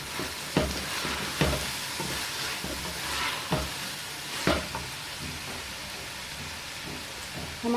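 A spoon stirs and mixes sauces in a pan for chicken cheese pasta: an ongoing soft sizzle with several sharp clinks and scrapes at irregular intervals, close and steady, with no talking.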